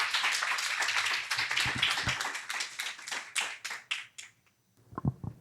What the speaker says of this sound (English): round of applause for Troy McNair.